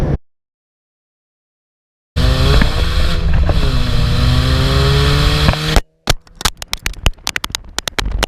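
A Mini Cooper S engine drones loudly at steady revs with shifting pitch while driving, then cuts out into sharp clicks and knocks.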